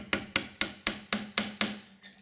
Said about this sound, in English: simply half hammer it in